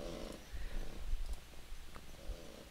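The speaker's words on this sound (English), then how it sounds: "If you combine cat purring with the chair rocking," Cat purring from a relaxation sound app on an Android phone, a steady low rumbling purr in soft repeating pulses, fairly close and continuous, with no talking over it.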